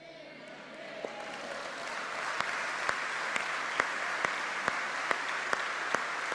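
Applause rises from a church congregation as a dense, sustained roar of clapping, with a row of sharp, evenly spaced louder claps punching through it in a regular beat.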